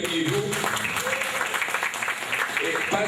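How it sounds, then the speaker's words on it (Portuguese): Applause for Ovidio, a visual artist and mosaic maker, at a literary festival event, a steady burst of clapping from the crowd with voices and cheering mixed in. "Palmas para o Ovidio aqui"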